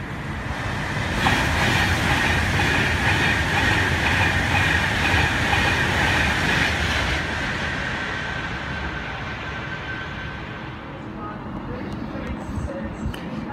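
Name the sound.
train passing through Milton Keynes Central at speed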